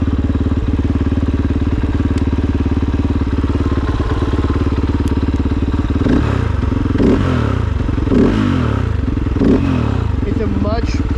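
A Kove 450 Rally motorcycle engine runs steadily up close, then is blipped through several quick rising and falling revs in the second half, sounding free-revving over a constant mechanical clatter.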